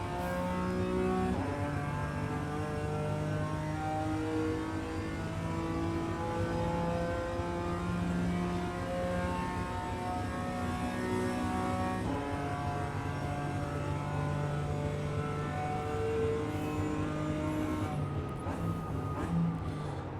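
A BMW M4 G82 GT4 race car in iRacing at Road Atlanta, its engine droning and revving steadily through gear changes, with a brief lift and return to throttle, loud and continuous with no talk.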